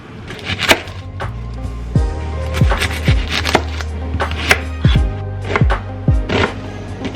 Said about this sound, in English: I'm going to chop up an onion and add it in